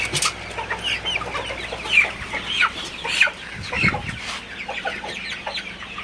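Several Sonali super hybrid chickens, about 46 days old, cluck and squawk in short bursts close by, irregular calls scattered over a low, steady background hum.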